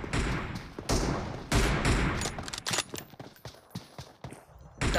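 Sniper rifle shots crack out in quick succession during an online shooting match, loud and close at first, then sharper scattered reports thinning out.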